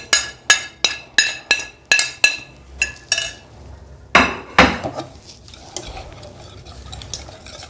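A spoon stirs ground cumin, garam masala and chat masala into a paste in a bowl for tandoori chicken tikka, clinking against the side in a quick, regular rhythm. A few heavier knocks follow, then softer scraping.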